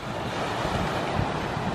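Surf breaking against rocks on a beach at Waikoloa Village, Hawaii, heard as a steady, broad roar of moving water with wind noise on the microphone, continuous throughout with no clear separate crashes.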